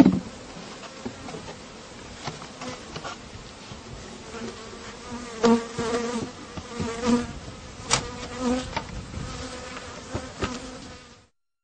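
Honeybees hum inside an open hive box, a continuous close buzz with individual bees swelling louder as they fly near, alongside occasional light knocks of frames and equipment.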